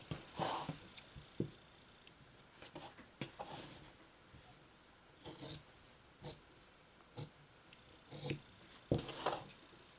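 Scissors snip through honeycomb-pattern quilting fabric, quiet, close, irregular cuts in short bursts with pauses between them, over a faint room hush.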